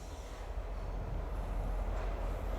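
Eastbound Iowa Northern freight train rolling past at Waterloo, Iowa, a steady, moderately distant low rumble of rail cars and wheels, with no talking.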